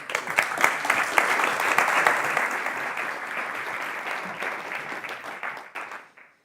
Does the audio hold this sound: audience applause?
yes